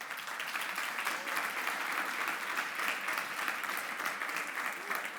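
A church congregation applauds during a Spanish-language sermon, a steady wash of clapping from many hands that holds evenly for several seconds with no speech over it.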